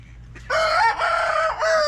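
Chickens and a rooster on a homestead: a loud, close rooster crow rises and wavers for over a second, set against a faint background.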